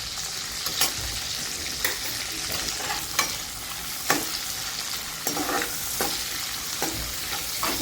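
Peas seasoned with salt cooking in a pan for tawa pulao, a steady frying sizzle with periodic sharp scrapes of stirring, close and moderately loud, no voices.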